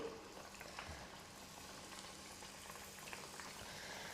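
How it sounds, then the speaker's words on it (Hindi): Snack pieces go into hot oil in a pan and fry with a faint, continuous bubbling sizzle, quiet and steady throughout. "जब तेल गर्म हो जाएगा तो अपने तैयार नाश्ते को इस तरह से डालेंगे।"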